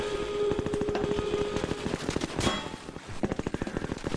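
Rapid automatic gunfire from an enemy soldier in Half-Life 2, a loud, sustained stream of close shots firing in quick regular bursts with a short pause near the end before another rattling burst.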